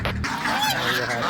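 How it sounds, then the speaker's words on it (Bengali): A flock of ducks at feeding time, loud, dense overlapping quacks and honking calls close by with no pause. "হাঁসের সাউন্ডগুলো দেখা যাবে"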